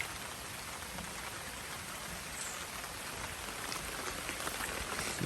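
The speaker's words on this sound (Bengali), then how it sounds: "ভোরবেলা থেকে অনবরত বৃষ্টি হইতেছে, বৃষ্টি কোনো বন্ধ নেই।" Continuous heavy rain falling on a rooftop garden with chilli plants, a dense, even hiss of drops on surfaces that holds steady throughout without pause.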